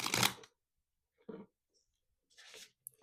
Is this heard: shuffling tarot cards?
yes